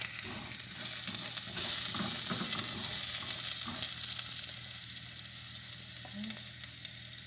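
Garlic sizzles steadily in a hot pan for chicken afritada, a continuous close frying hiss with occasional soft stirring scrapes and no voices.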